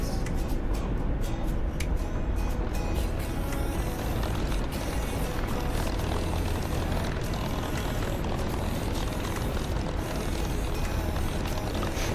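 Warbird propeller aircraft flying in a flight simulator, a dense, continuous engine and prop roar with broadband rush, loud and steady throughout with no talk.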